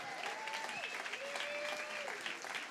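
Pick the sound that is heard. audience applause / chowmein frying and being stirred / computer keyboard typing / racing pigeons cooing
audience applause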